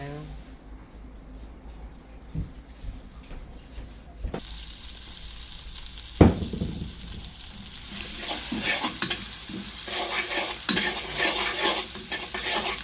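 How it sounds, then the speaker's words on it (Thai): Ingredients such as garlic and chili are stir-fried in a pan heated to high for canned fish with Chinese kale. Quiet stirring clatters give way to a louder, building sizzle, with someone speaking over it. "เราจะผัดต่อเลยจ้า ตั้งกระทะให้ร้อนขึ้นเก้านะคะ"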